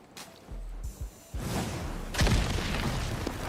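Grenade blast in a first-person shooter game: a quiet lead-in with a few low thumps, then a loud broadband boom at about two seconds that sustains as a roaring rumble to the end.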